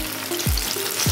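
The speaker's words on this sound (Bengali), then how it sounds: "এবারে আমি আঁচটা স্টিম করে দেবো, দিয়ে ভাজা শুরু করব।" Ripe banana fritters fry in hot oil, giving a continuous close sizzle punctuated by two soft thumps from stirring or turning, with no talking.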